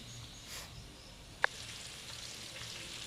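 Sesame chicken balls fry in hot oil with a soft, steady sizzle, one sharp clink partway through, no talking.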